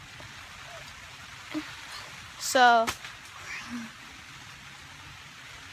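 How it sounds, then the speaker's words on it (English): Heavy rain falling on a tent at night, a steady broadband hiss of drops on the fabric throughout, with a brief voice and a short whistle-like sound partway through. "it's raining really bad"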